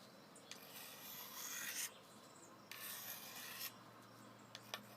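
A knife blade rasps across a diamond sharpener in a few quiet, steady strokes, each a soft gritty scrape separated by short pauses, with faint clicks between passes.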